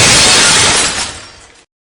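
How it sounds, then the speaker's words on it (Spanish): Large glass window panel in a house door shattering, one loud crash of breaking glass that rings out and decays over about a second and a half, then stops. "y quebró el ventanal de una de las puertas"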